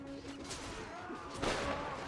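Gunfire in the Mount and Blade Warsword Conquest video game, with muffled shots and a louder crack over a busy battle din, while people talk over it.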